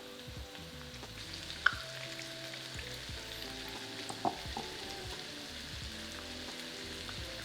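Beef pieces frying in a pan for crispy orange beef, a steady dense sizzle with occasional sharper pops and crackles, continuous and close throughout with no talking.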